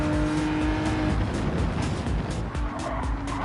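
An Aston Martin race car in Gran Turismo 7 drones at high revs, loud and steady, with tire squeal and skidding over the constant engine tone.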